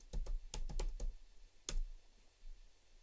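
Typing a search query into Chrome on a computer keyboard: a quick burst of close, crisp keystrokes, then one more isolated key tap after a pause, with no voices.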